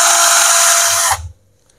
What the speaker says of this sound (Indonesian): Ini bor yang harganya 150-an ribu, suaranya seperti ini.